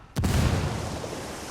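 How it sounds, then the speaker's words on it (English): A single frag grenade goes off in Ghost Recon Wildlands as a sudden, loud, close blast that fades into a long, rumbling low tail. "Let's see if we can get a grenade in."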